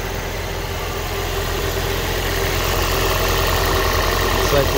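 A Toyota Prius engine, converted to run on E85 flex fuel, idling smoothly and steadily up close, a constant low hum with a faint regular pulse throughout.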